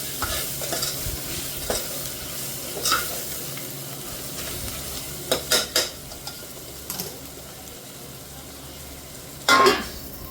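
Tomato and masala frying in oil for chicken pulao, stirred with a utensil: a soft continuous sizzle broken by sharp scraping and clinking strokes against the pan, close and alone without voices.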